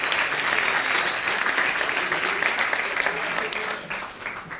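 Sustained audience applause for the speakers at the FameLab Ireland 2014 science communication final, a dense steady roar of many hands that fades slightly toward the end.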